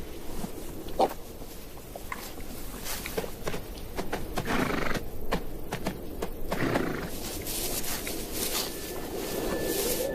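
Wild desert horses in Africa, with hooves clip-clopping and shuffling and occasional snorts and whinnies, moderately close over a steady outdoor background.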